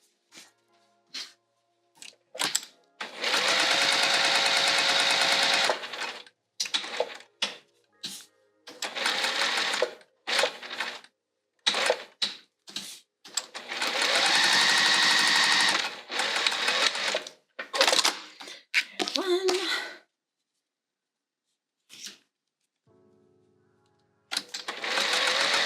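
Folded D-ring attachments for a Fogerty bag are stitched down on a sewing machine in several bursts of steady whirring, separated by pauses and short clicks as the fabric is repositioned.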